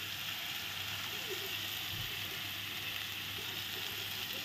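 Spices sizzling in a pan with a splash of water while being cooked down for a vegetarian papaya kofta curry, a steady hissing fry with a faint scrape near the middle, quiet and continuous.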